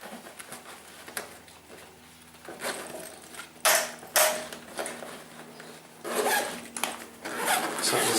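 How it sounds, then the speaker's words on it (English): Zippers being worked closed on an expandable magnetic motorcycle tank bag in a garage, several short scratchy zipping strokes and rustles, close and moderately loud, with quiet gaps between. "So zipping the base back on"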